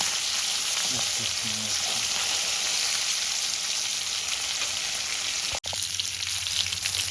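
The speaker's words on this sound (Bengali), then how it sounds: "একদম লাল করে ভেজে নেব" Catla fish pieces fry in oil until reddish, giving a steady dense sizzle and hiss up close, with a brief murmured voice early on and a sharp momentary break near the end.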